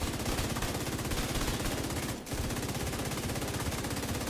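Sustained automatic gunfire from a weapon being test-fired in a video game, a loud continuous stream of rapid shots lasting several seconds with one brief pause midway.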